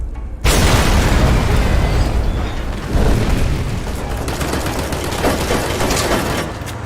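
Tank fire in the Fallout: New Vegas Frontier mod sets off a sudden loud explosion, a deep booming blast followed by several seconds of rumbling, crackling debris and a smaller secondary burst.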